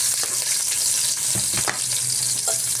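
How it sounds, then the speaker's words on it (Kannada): Chopped onions with garlic and ginger fry in a pan for palak soup: a continuous bright sizzle, close and fairly loud, broken by a few stirring knocks and scrapes. "ಈರುಳ್ಳಿ ಹಾಕ್ಕೊಂಡು ನಾವು ಚೆನ್ನಾಗಿ ಫ್ರೈ ಮಾಡ್ಕೊಳ್ತಾ ಇದ್ದೀವಿ."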